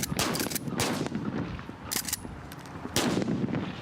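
Several sharp gunshots crack out in irregular bursts, loud and close, with a busy, noisy background between the shots.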